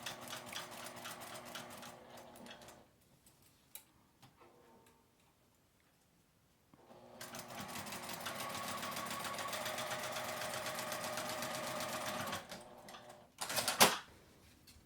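A sewing machine stitches past the bulky coil zipper of a small keychain pouch, running in two bursts of steady rapid ticking separated by a quiet pause, with a brief louder clatter near the end.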